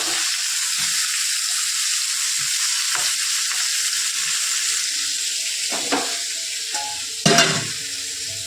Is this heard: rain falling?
no